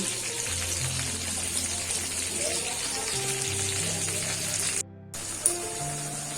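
Steady broadband sizzle of Bengali chana dal cooking in hot oil as a pinch of asafoetida goes in, continuous and fairly close, with a brief drop partway through and no talk.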